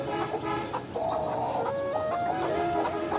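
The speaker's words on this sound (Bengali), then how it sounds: "এটা হচ্ছে মুরগিটা, আর এটা মোরগ" Silkie chickens, a hen and a rooster, cluck in a farm coop: repeated short, soft clucks and murmurs close by over a faint steady background hiss, without speech.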